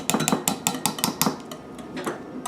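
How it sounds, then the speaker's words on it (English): A whisk clatters rhythmically against a bowl while pumpkin pie filling with lemon zest is mixed, making a run of close, bright metallic taps that slow and thin out toward the end. "Looks like it's all whisked up"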